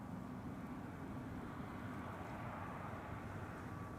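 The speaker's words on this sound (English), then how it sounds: "And this is KLM flight, what is this, 1164 arriving from Bergen." A KLM passenger jet arriving at the Polderbaan runway on an overcast day, heard as a steady, continuous broadband roar of engines that holds at an even, moderate level throughout, with no voices.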